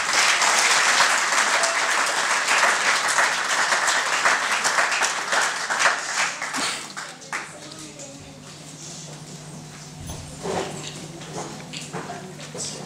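Wedding guests applauding and cheering for the king at a 2014 wedding ceremony, loud dense clapping at first that thins out into scattered claps and crowd murmur, with voices talking underneath as it fades.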